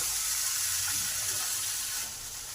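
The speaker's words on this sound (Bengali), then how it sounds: "ঠিক এই সময় সেদ্ধ ডালটা আছে ডাল সেদ্ধটা দিয়ে দিলাম" Boiled dal going into a pan of frying spices and softened tomato, a dense loud sizzle that settles slightly toward the end, close and steady.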